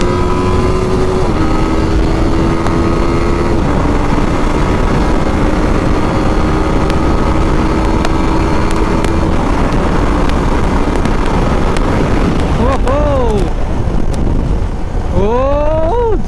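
Six motorcycles, including a Yamaha FZ, ride together along a wet highway, their engines droning steadily and close throughout. Wind buffets the microphone, and toward the end several rising and falling revs sweep past nearby.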